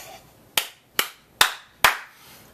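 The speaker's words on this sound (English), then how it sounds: "my clapping summarizes how I feel about that" A single person claps four sharp, evenly spaced hand claps, close and alone, each with a short ringing decay in a quiet room.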